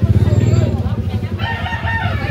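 A rooster on a chicken farm in Carbon, Cebu, crows loud and close in one short call, with rhythmic clucking and a murmur of people talking behind it.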